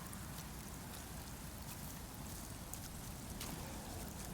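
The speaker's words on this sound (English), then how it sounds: "The rain. Feel wet from just being here." Steady rain in the Shrine of Storms, a stormy seaside area of the Demon's Souls video game, a quiet constant hiss with scattered droplet patter and no voices.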